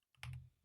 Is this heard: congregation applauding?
no